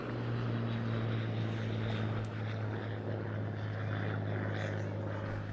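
A 1940 Battle of Britain Spitfire P7 flies a display at a seaside airshow, its piston engine droning steadily and loudly with a deep even hum throughout, no talk.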